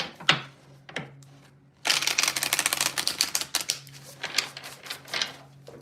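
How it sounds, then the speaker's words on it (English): Tarot cards being shuffled by hand, two short snaps followed by a rapid papery riffling flutter that runs in dense bursts, close and crisp, with no talking. "We are shuffling the cards so we can do Pisces."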